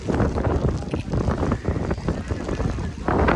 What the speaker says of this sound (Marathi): भरपूर वारा सुटलेला आहे